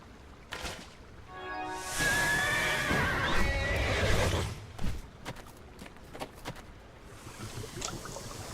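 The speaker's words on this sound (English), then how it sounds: "that's a normal horse with sad floppy wings" A winged horse mount in the video game Neverwinter neighs loudly and at length. Scattered hoof clops and clicks follow, and a soft airy background runs underneath. No voices are heard.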